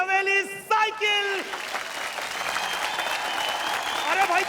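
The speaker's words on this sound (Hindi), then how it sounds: "अरे भाई जोरदार तालियां" Steady, dense clapping from a crowd at a village kite-flying competition, heard after a voice calls out briefly, then continuing loud and sustained with a faint tonal sound in the background.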